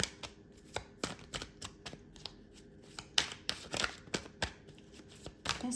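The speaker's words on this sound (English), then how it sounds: "give them a really good shuffle" Tarot cards being shuffled by hand in a quiet room: a steady run of crisp riffling snaps and soft slaps, close and fairly quiet, with no talking.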